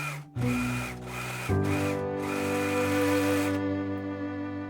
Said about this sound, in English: I'm going to serge around the neckline